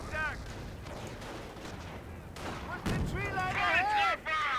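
Artillery fire in Company of Heroes: Panzer Elite, heavy booms and rumbling blasts rolling through the battle noise, with voices talking over and between the impacts.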